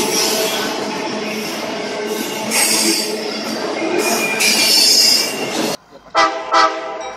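A Norfolk Southern Dash 9 locomotive rumbles past with a loud, bassy drone and a steady roar of rolling wagons that cuts off sharply near the end, followed by a few brief bursts.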